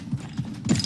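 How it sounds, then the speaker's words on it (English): Horse hooves clip-clop in a video game, a few loud, close, evenly spaced hoofbeats with no talking over them. "Are those horses that I hear?"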